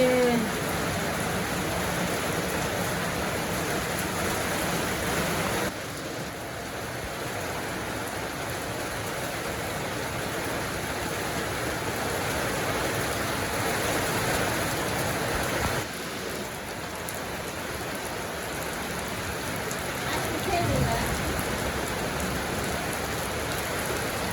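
Morning rain pours down steadily, a constant broad wash of drops on surfaces that stays close and even, with a couple of brief dips in loudness.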